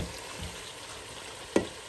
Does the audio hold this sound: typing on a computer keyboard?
no